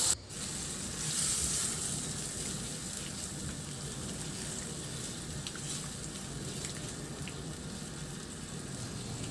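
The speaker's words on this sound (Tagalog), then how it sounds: "Ihalo lang hanggang sa kumulo yung gata" Coconut milk simmers and is stirred in a pan, a soft continuous bubbling sizzle heard close but fairly quiet, with a brief knock at the start and no talk.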